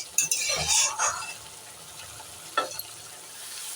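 Spice paste with green chilli sizzling and being stirred in a pan for a spicy Bengali fish curry, with a burst of frying and clatter near the start, then a quieter steady sizzle and another scrape of stirring.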